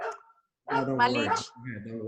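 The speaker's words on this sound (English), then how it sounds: "sorry about the dogs." Dogs barking close by: one yip, then a longer burst of barking and whimpering yips, loud against a quiet indoor background, with a brief spoken word at the start.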